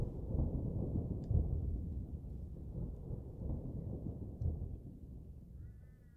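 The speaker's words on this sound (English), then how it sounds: "That was thunder." Thunder rolling outdoors, a deep sustained low rumble with a couple of heavier swells, lasting several seconds and slowly fading toward the end.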